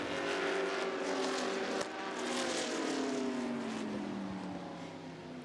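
A tribute race car with a modern engine thunders past on a track at a speed festival, its loud roar sweeping by with a falling pitch and fading into the distance.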